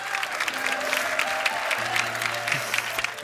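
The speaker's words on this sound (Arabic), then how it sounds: "صفقوا عليها صفقوا عليها صفقوا عليها." Audience applause at a theater performance, a steady dense wash of many hands clapping that holds throughout, with faint low tones from the room underneath.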